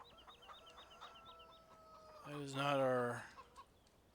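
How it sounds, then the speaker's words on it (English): Video-game chickens in Farming Simulator 17 cluck in a repeated, chirpy rhythm at moderate level, then a louder, drawn-out crow-like call swells for about a second before fading. "There's our cluckety-cluck chickens."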